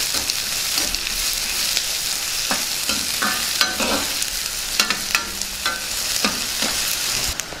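Onions and green chillies stirred in hot oil for a tempering, a steady close sizzle broken by repeated scraping strokes of a spoon against the pan, with no talking.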